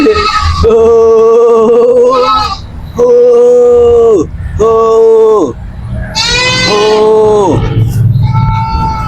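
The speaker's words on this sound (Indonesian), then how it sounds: "Rupanya kambing ini bertiak." A goat bleats close and loud in several long, wavering cries, with short pauses between them and a shorter trailing bleat near the end.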